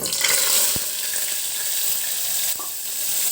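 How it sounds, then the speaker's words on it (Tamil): Onion paste dropped into hot oil with popped mustard seeds gives a loud, steady close-up sizzle with a few soft clicks of a spoon against the pan. "நான் வந்து இந்த அரைச்சி வச்சுருக்கிற வெங்காய பேஸ்ட் வந்து இப்போ சேர்த்துக்கிறேன்"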